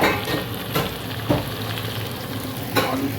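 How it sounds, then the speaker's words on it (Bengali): Chicken sautés with spices in a pan, a loud continuous sizzle punctuated by a few sharp stirring scrapes and clanks, with no talking. "তো চিকেন কষানো চলছে এখানটায়"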